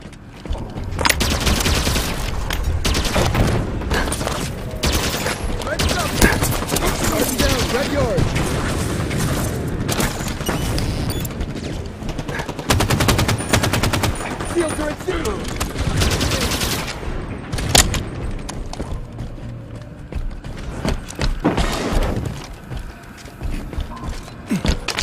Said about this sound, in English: Switch into a sniper rifle.